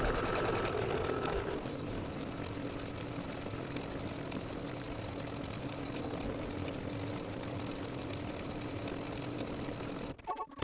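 A home embroidery machine stitches the quilting pass on an in-the-hoop mug rug, a steady, continuous mechanical hum with fast needle chatter running throughout, close and even, stopping abruptly at the end.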